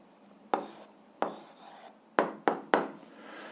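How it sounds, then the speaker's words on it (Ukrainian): Pen writing an algebra exercise answer on paper: a few soft, scratchy strokes in short separate bursts, close and fairly quiet, with no talk. "записуємо відповідь, пишемо відповідь"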